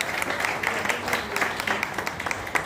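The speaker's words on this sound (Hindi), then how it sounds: "तालियों से एक बार आप स्वागत करें।" Audience at a press club memorial music tribute applauding to welcome a guest, a steady crowd clapping with distinct individual claps poking through, moderately loud and sustained.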